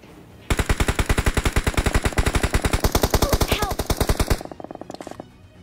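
MG3 machine gun fire in a battle royale video game: one long, rapid, evenly paced burst of loud, close shots lasting about four seconds, then a short fading tail.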